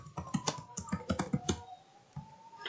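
A computer keyboard being typed on to enter a name in a registration form, giving a quick run of a dozen or so close, light key clicks, then a short pause and a few more taps.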